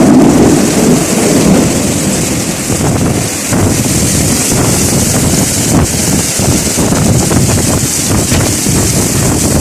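Heavy rain in Bahrain pours steadily with a constant roaring hiss and flooding, low rumbles of thunder rolling underneath and gusts of wind buffeting close by.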